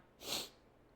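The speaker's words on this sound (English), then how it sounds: "I'm going to sneeze." A single quick sneeze, a sharp airy burst close to the listener, against near silence.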